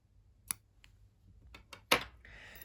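Scissors snip crochet yarn close by: a few soft clicks, then one sharper cut, followed by faint rustling.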